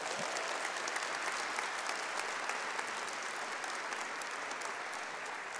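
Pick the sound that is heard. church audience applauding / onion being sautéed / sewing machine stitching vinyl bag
church audience applauding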